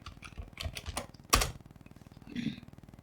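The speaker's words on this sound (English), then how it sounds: "I'll type in my password" Password being typed on a computer keyboard, quick clusters of light key clicks followed by one louder strike and a brief pause, close and fairly quiet, with faint speech-like sound in the background.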